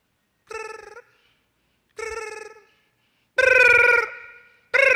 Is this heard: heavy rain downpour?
no